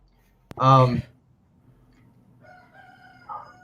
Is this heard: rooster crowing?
yes